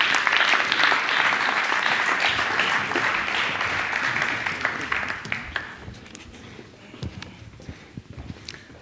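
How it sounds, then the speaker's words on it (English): A festival crowd claps to welcome guests onto a stage, loud dense applause that gradually thins and fades, leaving scattered claps and a few footsteps toward the end. "So please welcome them with an applause"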